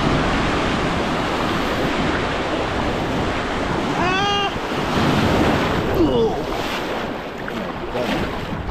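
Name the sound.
strong wind and ocean waves at a beach in Mexico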